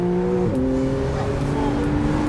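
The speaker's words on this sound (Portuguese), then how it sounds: "tô falando pra você, mano, essa Porsche Thiago." A Porsche 911 engine hums loudly and close by, its tone shifting to a new pitch partway through as the engine revs and pulls, a smooth sustained drone.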